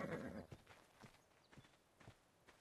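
A horse in a roleplay video game whinnies briefly, then hooves clop in a slow, irregular walking rhythm, quiet and fairly close.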